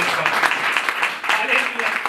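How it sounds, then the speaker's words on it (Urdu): A church congregation applauds loudly during a sermon, a dense sustained clatter of clapping with voices mixed in, close and full throughout. "آئے زوردار تالیاں بجائیں"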